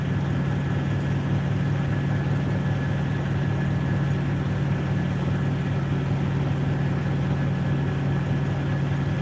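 A truck engine idles steadily nearby, a constant low rumble with a pulsing mechanical hum that holds even throughout, with no talking over it.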